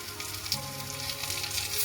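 Chopped tomatoes go into a hot pan of frying mixture, which hisses and crackles steadily with a brief splashy burst as they land, loud and close with no talking.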